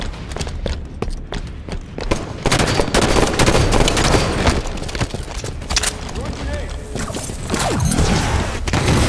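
Video game gunfire rattles in dense bursts of shots and booms through the whole stretch, loud and busy, with game voices and effects mixed in.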